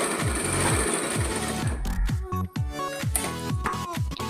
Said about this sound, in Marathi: इथे मी अर्धा इंचाच्या गॅपवरती मी बटन पट्टीला शिलाई मारून घेते.